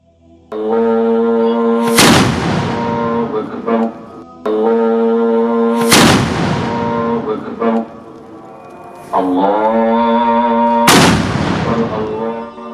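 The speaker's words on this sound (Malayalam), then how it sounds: "കതിന നിറയ്ക്കുന്നതും വെടിമുഴക്കുന്നതും" Traditional kathina firecrackers fired in Vazhakkad to signal the breaking of the Ramadan fast: three loud, booming blasts spaced several seconds apart, each decaying slowly, with a steady droning horn-like tone filling the gaps between them.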